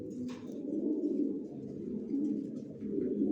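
Racer pigeons coo steadily inside a loft, a low continuous rolling murmur from several birds close by, with no voices.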